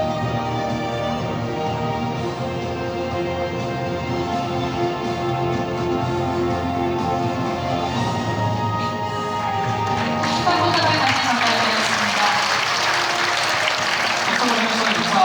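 An audience at an award ceremony claps while an award is handed over, a steady applause that swells louder partway through, set against sustained background music.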